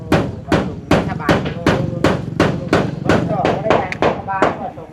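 Close, loud hammering and pounding, about a dozen sharp blows struck at a steady, slightly quickening rhythm.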